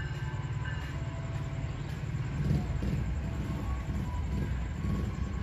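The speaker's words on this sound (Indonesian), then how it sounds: "Kereta apa ini? Masuk di jalur 1 ya, masuk di jalur 1 stasiun Pasuruan." A train pulls into track 1 at Pasuruan station in East Java, a steady low rumble and rolling drone that swells slightly midway, heard close without any talk.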